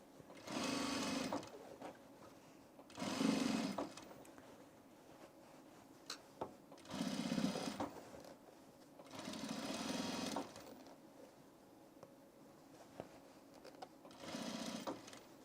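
A sewing machine stitches men's pants in bursts of rapid, whirring runs, each lasting about a second or two with quiet pauses between, close up and moderately loud.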